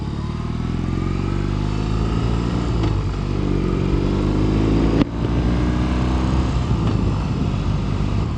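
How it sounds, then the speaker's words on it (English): A motorcycle making a slow U-turn, its engine running steadily and close, the pitch rising and falling gently as the bike turns, with one brief bump partway through. "I really gotta practice the U-turns on this bike"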